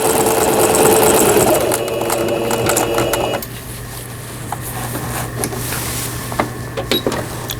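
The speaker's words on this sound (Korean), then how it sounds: "옷감의 가장자리가 풀리지 않도록 해주는 오버록 스티치가 되겠습니다" A Singer 5400 sewing machine running an overlock stitch, its loud, steady mechanical whir and needle chatter continuing close up. It shifts into a slightly quieter, busier rhythm partway through.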